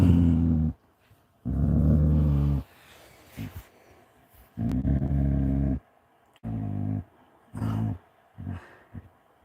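A pet dog growls playfully in several separate rumbling bursts with short quiet gaps between them, close and fairly loud, and no talking in between.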